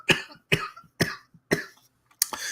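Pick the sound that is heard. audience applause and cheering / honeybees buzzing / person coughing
person coughing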